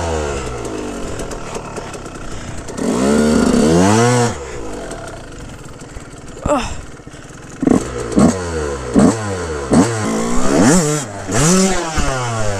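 A 2004 Yamaha YZ125 two-stroke dirt bike revs hard on an enduro trail, with a sustained high-revving burst followed by a series of sharp, rising throttle blips, loud and close with no talk.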